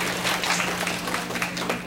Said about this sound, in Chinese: 那我们是不是掌声来谢谢那个同学？